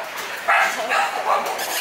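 Stray puppies on a jetty in Penang give three short, high yips and whimpering barks, close, over steady background noise.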